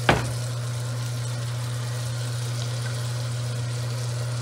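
Sous vide prime ribs and beef chuck roast hitting a pan heated to 460 degrees: a sharp initial sizzle burst as the meat lands, settling into a steady, hissing sear over a constant low hum, with no talking.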